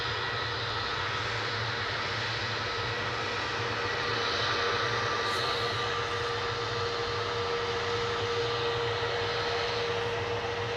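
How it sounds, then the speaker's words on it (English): KLM Boeing 737-800 jet airliner departing Manchester Airport, a steady broadband engine roar with a faint whining tone, constant and fairly distant for the whole stretch, with no talking. "now, off to Amsterdam. The beautiful blue KLM."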